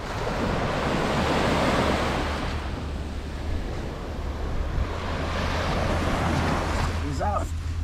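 Waves breaking on Seven Mile Beach in the Cayman Islands, a loud, continuous surf wash with wind buffeting the microphone and a brief faint voice near the end.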